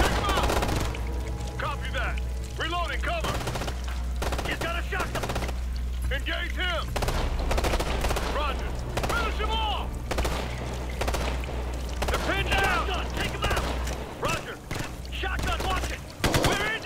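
Video game gunfire in Ghost Recon Future Soldier: rapid automatic bursts and scattered single shots crackle over steady background rumble, with voices speaking intermittently between volleys.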